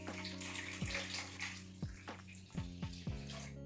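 Warm water is poured into a bowl with an egg while mixing dough for belyashi, a steady close trickling splash with a few brief clunks, quiet and without talk.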